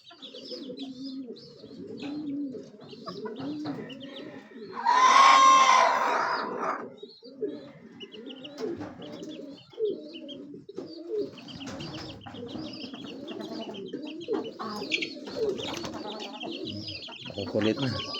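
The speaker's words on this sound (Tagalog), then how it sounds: "Yung mga sisiyo natin." Young chicks peep among chickens that cluck softly, with one louder call rising briefly mid-way over a busy, fairly quiet backyard coop chorus of small scattered chirps.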